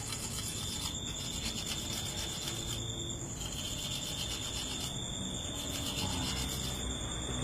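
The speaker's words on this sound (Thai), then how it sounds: "ค่อยๆถากไปนะครับ ใช้มีดขูดไปนั่นเองนี่นะ" A knife scraping and shaving wood to shape a Thai kite frame, a steady continuous rasp with faint rhythmic strokes, close and fairly quiet throughout.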